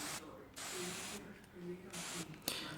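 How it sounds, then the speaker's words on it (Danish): Water sprayed onto a car windshield treated with a nano coating, heard as several hissing spray bursts separated by short pauses, with a voice speaking faintly underneath. "Vi prøver at sprøjte lidt vand på frontruden"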